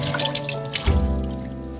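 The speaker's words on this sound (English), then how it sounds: "rinse them thoroughly under cold running water to remove any shell fragments." Cold tap water runs while oysters are rinsed of shell fragments, a continuous splashing stream in a sink with shifting drips and a brief heavier gush partway through, close and clear without talk.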